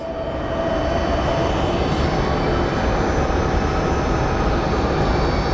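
Envoy Airlines jet at Phoenix Sky Harbor airport, a loud, steady engine roar with a faint high whine, continuous throughout with no talking.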